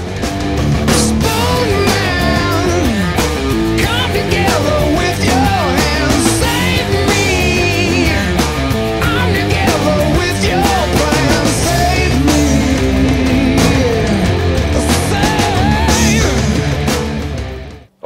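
Loud, distorted electric guitar plays the chorus riff, a dense and continuous rock sound with a steady driving rhythm across the whole passage and no talking.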